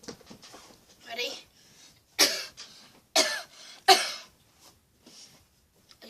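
A person coughs several times during a card trick, three sharp, loud coughs spaced about a second apart, with softer breathy throat sounds and faint voice murmurs between them.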